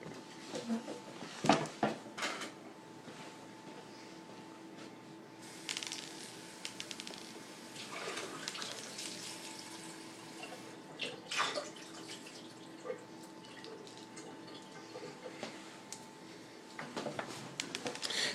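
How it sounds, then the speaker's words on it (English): Tin can rinsed under running water: a quiet tap stream splashes and trickles with occasional clinks and handling knocks, faint and intermittent, with slight background voice. "Had to wash it out, so it's nice, clean, and shiny now."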